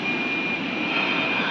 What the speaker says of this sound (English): Now it's spindle running.